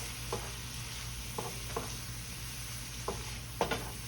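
Garlic frying in a pan with bone-in chuck steak gives a steady background sizzle, with a few sharp stirring scrapes and taps at irregular intervals. No one speaks.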